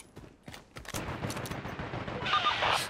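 Gunfire from the online shooter Caliber: a quick flurry of shots and bursts of automatic fire, fairly close and loud, packed into a few seconds with no talking over it.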